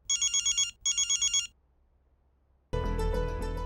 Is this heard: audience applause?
no